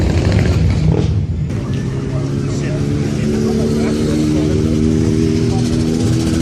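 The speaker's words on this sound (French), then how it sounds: "Une vieille Renault 5 Turbo." An old Renault 5 Turbo car engine runs steadily with a deep, rough drone and harmonic hum, loud and continuous at a car gathering, under a voice talking throughout.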